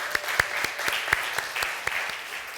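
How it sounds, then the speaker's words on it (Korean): A congregation at a church Sunday service claps together in a steady, fairly even rhythm, a short burst of applause with sharp individual claps standing out. "다시 한번 박수 해주세요."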